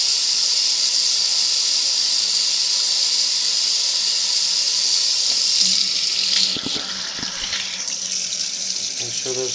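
Tap water runs steadily into a sink as something is rinsed, a close, constant rush that shifts and softens after a few clunks partway through.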